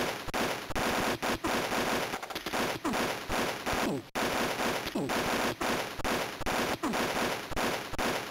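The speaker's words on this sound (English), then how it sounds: "An auto rifle." Auto rifle fire in the Game Boy Color game Army Men, a dense, harsh, steady stream of rapid shots running continuously for several seconds with brief gaps, loud and close.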